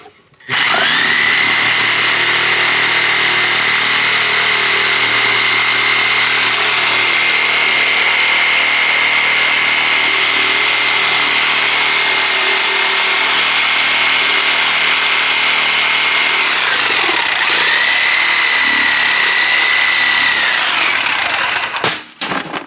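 A power saw cuts through timber framing during a house window installation, a loud, close, steady high whine that runs for about sixteen seconds, dips briefly, then resumes for a final few seconds before stopping.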